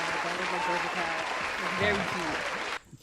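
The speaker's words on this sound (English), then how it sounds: "round of applause" A live podcast crowd gives a round of applause and cheers for a birthday guest, steady and fairly loud for nearly three seconds before cutting off, with a voice speaking briefly over it.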